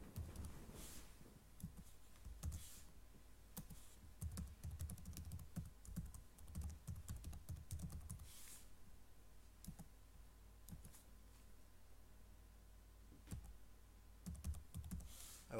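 Someone types participant information on a computer keyboard, a quiet, close run of irregular key clicks with short pauses and a few louder taps, with no talking.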